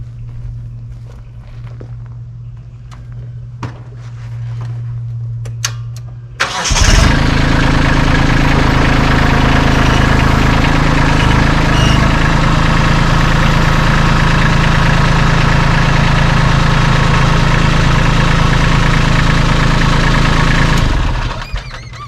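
A tractor engine at a sawmill cranks and starts after a low idle hum and some footsteps, then runs at a loud, steady, rumbling idle for about fifteen seconds before dropping off at the end.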